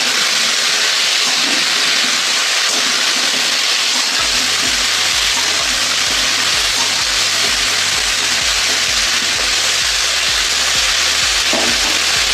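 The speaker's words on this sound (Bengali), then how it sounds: "ব্রকলিগুলো আমি ভেজে নিই।" Broccoli frying in a pan with turmeric gives a steady, fairly loud broadband sizzle throughout, joined after a few seconds by a low rhythmic mechanical hum beneath it; nobody speaks.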